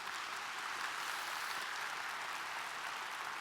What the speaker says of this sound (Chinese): 我们再给我们的 IV 一个热烈掌声